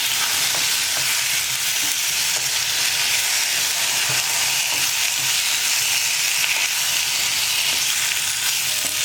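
Potatoes sautéing with masala in a pan on a medium flame, giving a steady close frying sizzle with faint stirring scrapes throughout.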